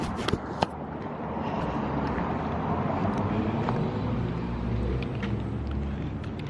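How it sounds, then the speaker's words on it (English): Dense road traffic rumbles steadily along a busy street, a continuous loud broadband wash of passing vehicles and engine noise with some wind buffeting, a few sharp clicks near the start, and no voices. "There's a lot of traffic here,"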